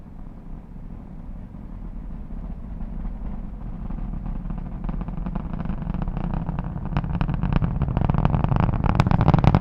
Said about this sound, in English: Let's listen to the roar of those 9 Merlin engines.